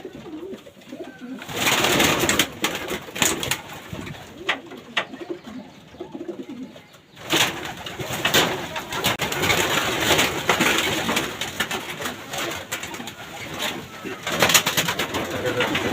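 Racing pigeons from a 100 km race coo steadily in a loft over a constant rustling and scuffling din. The sound drops out briefly near the start and again midway, and a voice is heard in the background.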